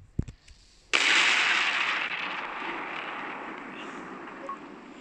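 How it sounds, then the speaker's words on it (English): In the video game Solar Smash the sun is blown up: after a few faint ticks, a sudden loud blast erupts and decays into a long roaring rumble that slowly fades. "let's just explode the sun"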